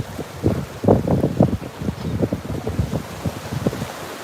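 Gusty wind at Fort Myers Beach buffets the microphone in irregular, rumbling low thumps of moderate loudness, with no voices.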